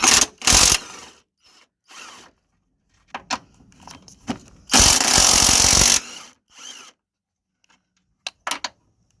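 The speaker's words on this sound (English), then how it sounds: "we are using a 14mm socket to undo these nuts" A ratchet fitted with a 14mm socket undoing strut mount nuts on a Honda Civic during front coil spring replacement, with bursts of rapid clicking, a long sustained ratcheting run, and scattered metallic clinks, close up with no talking.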